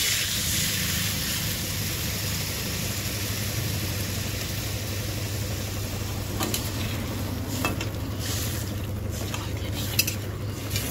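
Radish and potatoes frying in a pan after water is poured in, giving a loud continuous sizzling hiss, with a few light utensil clinks and stirring scrapes toward the end, no talking.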